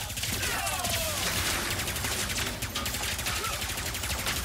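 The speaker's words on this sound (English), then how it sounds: "I'll stop shooting when you stop shooting me" Dense, continuous gunfire and explosive weapon bursts from the video game Ratchet & Clank: Rift Apart, loud and unbroken throughout, with no voices heard.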